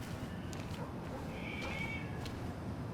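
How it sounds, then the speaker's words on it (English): In the video game Twin Mirror, cats fight out of sight in an alleyway, their distant, faint yowls rising briefly over a steady background hum. "I think there's cats fighting out over there."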